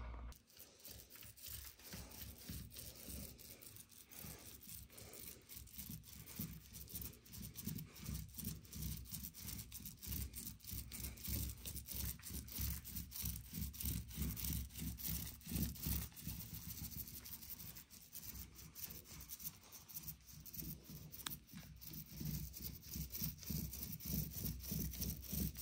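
A roller spreads dark pigmented paint onto a wall beside trim and wallpaper, making rapid, rhythmic sticky rasping strokes that repeat steadily and close by throughout, with no talking.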